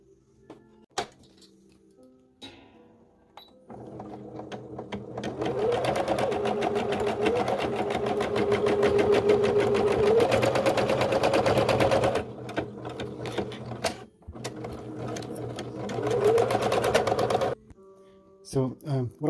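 A Babylock Espree EM1 embroidery machine stitching fabric, a steady rapid mechanical chatter running for several seconds at moderate level. It pauses briefly, then resumes, with clicks and handling noises at the start and end.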